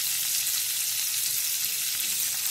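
Spice paste with red chilli powder and garam masala fries in a pan for Suran (elephant foot yam) masala sabji, a dense, even, loud sizzle with soft stirring and no pauses or voices.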